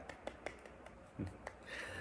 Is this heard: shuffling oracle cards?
no